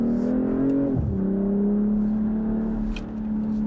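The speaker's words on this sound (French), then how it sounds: "elles sont à essence, elles ont des gros moteurs et elles font du bruit" A big petrol car engine in sport mode revs up with a steady, droning hum that dips briefly and settles into a sustained tone, close and fairly loud.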